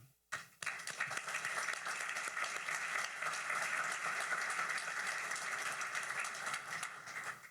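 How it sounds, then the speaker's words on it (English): Applause from an audience at a bilateral energy summit at the Petroleum Club of Houston; a dense burst of clapping starts sharply after a brief quiet moment and continues steadily to the end. "Please join me in a round of applause for all of them."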